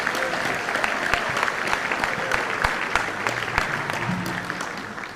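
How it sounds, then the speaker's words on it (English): Audience at a school band winter concert claps steadily throughout, a dense field of hand claps at moderate level with no break. "Give them a round of applause, please."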